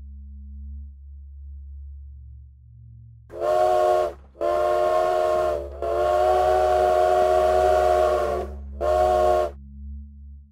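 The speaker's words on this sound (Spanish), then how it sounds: "El tren silbó un buen rato." A steam train whistle blows loudly four times, short, long, longest, then short, over a steady low rumble.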